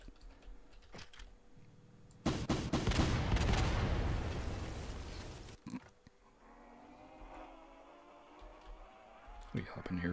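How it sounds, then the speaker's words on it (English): Video game gunfire as a player shoots at a zombie: a loud, dense burst of rapid shots lasting about three seconds, preceded by clicking keys and followed by a quieter engine-like hum, with talking throughout. "he's shooting at the zombie"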